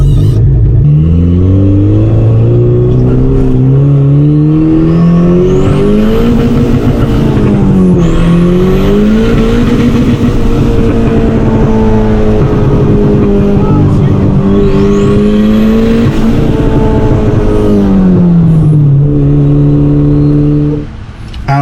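An old Honda Civic engine revs loudly and close, its pitch climbing and falling through repeated throttle blips over about twenty seconds with a raspy, buzzing exhaust note that holds nearly constant loudness throughout.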